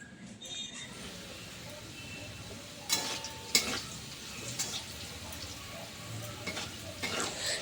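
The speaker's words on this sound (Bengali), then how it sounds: "এদিকে রান্নাবান্না সব বসিয়ে দিয়েছি, একটু আলু ভাজাটা করছি।" Potatoes fry quietly in a pan with a soft, steady crackle, punctuated by several sharp scraping and clattering strokes of a utensil as they are turned.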